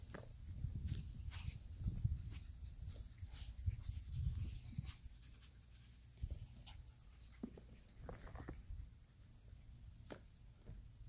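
Rottweiler puppies whimper and whine faintly outdoors in short, scattered cries, over soft rustling and shuffling footsteps close by.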